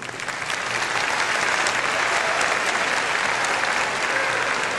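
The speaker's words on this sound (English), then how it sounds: "they deserve a quick round of applause" Audience at a high school graduation ceremony claps, a dense, steady wash of applause that swells in quickly and holds for several seconds.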